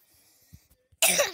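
Single sharp cough, close and fairly loud, after a second of near silence with a few faint soft knocks.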